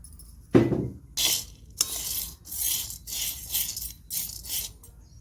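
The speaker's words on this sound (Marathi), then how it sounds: "एक वाटी गहू घेतलेले आहेत ते आपण आता छान असे भाजून घेऊया" Grains of wheat, one bowlful, dry-roasted in a pan and stirred, giving repeated bursts of scraping, rattling clatter in an uneven rhythm, close and fairly loud with no talking.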